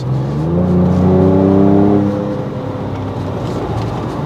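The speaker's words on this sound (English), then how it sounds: "This V6 sound and the way they tune the exhaust is really good." A Gen2 Ford Ranger Raptor's V6 engine in sport mode revs up loudly with a rising growl through the exhaust, then eases back to a lower, steady rumble.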